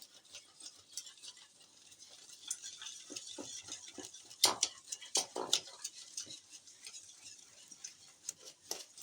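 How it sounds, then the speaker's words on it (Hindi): A spoon stirs eggs and cornflour together in a bowl, making soft, irregular scraping and clinking, faint and close, with a few sharper taps. "अच्छी तरह अंडे और कॉर्नफ्लावर को आप मिला लें"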